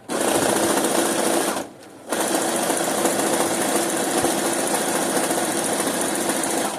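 A sewing machine stitches fabric for a quick top with matching buttons, running in a steady, loud, close-up whir with one brief pause before it resumes and carries on evenly to the end.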